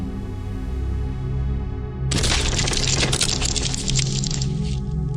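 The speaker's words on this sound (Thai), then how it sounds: "เสียงแตกหักของไม้ ดังสะท้อนกล้องไปทั่วทะเล" A sudden loud burst of splintering wood cracks and crunches as a wooden boat is crushed by a sea monster, a dense crackling roar cutting in abruptly over a low rumbling drone and lasting several seconds.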